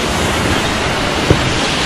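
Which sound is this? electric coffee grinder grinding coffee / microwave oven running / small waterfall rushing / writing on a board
small waterfall rushing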